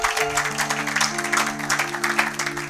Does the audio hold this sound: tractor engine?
no